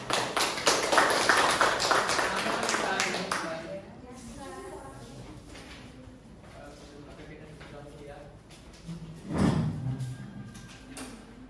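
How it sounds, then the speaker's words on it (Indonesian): A classroom claps for the first student group: a few seconds of brisk, dense applause from many hands, which then dies away as a voice starts talking. "kita beri aplaus pada kelompok pertama"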